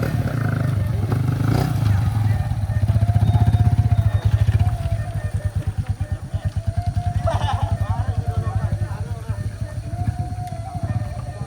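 A motorcycle's engine revs and pulses steadily on a road in the Pesisir Selatan–Solok area, loud and close, with a throbbing rhythm that rises and falls while a person speaks over it.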